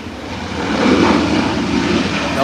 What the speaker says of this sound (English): Rear wheel have touched down, nose is down,